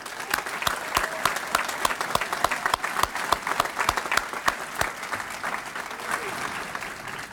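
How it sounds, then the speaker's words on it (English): A crowd applauds at a Boston Fire Department graduation ceremony in 2017: steady, dense clapping from many hands with sharp individual claps standing out, continuing throughout without a break. "How about a round of applause?"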